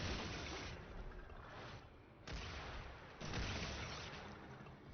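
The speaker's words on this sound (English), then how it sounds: "now I'm generating little explosions as I roll around the map" Small explosions from ice grenades, set off while rolling around the map in the video game Warframe, come as dense, noisy bursts of game effects. They layer into a continuous loud wash with sharp surges at about 2.3 and 3.2 seconds.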